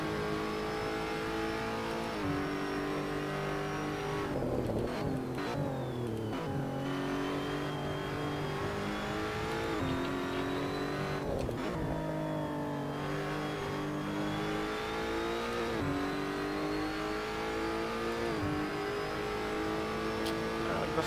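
Race car engines in an online racing game rev steadily and then shift gears repeatedly, a loud continuous engine drone that rises and falls through the gears, with only faint talk underneath.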